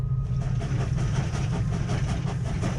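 Train rumbling through a theatre set during an immersive performance, a steady, loud low rolling drone with faint rhythmic clatter throughout, no voices.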